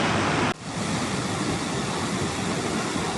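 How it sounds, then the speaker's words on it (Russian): Floodwater pours like a waterfall inside a fire station during severe flooding in the Urals, a dense, loud, continuous roar of rushing water close by, with a brief dip at the start. "В пожарной части водопад"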